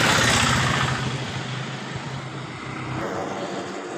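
Engine of a wooden trawler carrying timber from the Sundarbans on a tidal river, a low steady chugging drone with broad rushing noise, loudest at first then easing slightly as it holds.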